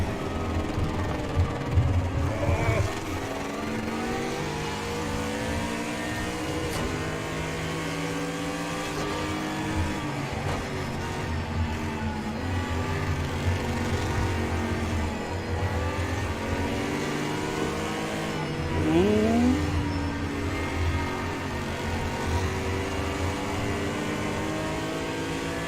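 Race car engines rev and whine continuously in a VR racing game, with gear-change shifts in pitch and a rising pass near the end, loud and sustained with no talking.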